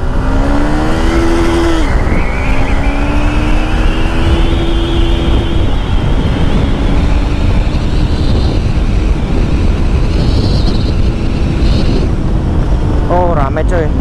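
Yamaha MX King motorcycle, whose chain was damaged by a bent gear, riding fast at over 100 in fourth gear, with a loud engine whine rising through the gears under heavy wind roar and a faint voice.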